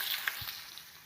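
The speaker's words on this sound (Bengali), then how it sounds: "এবারে আমি আলু দিয়ে দিচ্ছি।" Potatoes dropped into hot oil already frying dried red chilli and black cumin give a short, steady sizzle with a soft thump, close by and fairly quiet.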